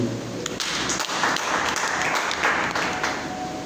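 A congregation at a Swahili-language church sermon claps loudly and densely in a sustained burst of applause, close and continuous throughout.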